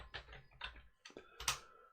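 A few light clicking keystrokes tapped on a ThinkPad T430 laptop keyboard, quiet and close, in a short irregular run.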